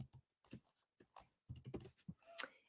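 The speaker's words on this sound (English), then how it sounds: "So I am going to type watermelon." Quiet typing on a computer keyboard, a short run of separate soft key taps in irregular rhythm, ending with a slightly sharper click, with no talking.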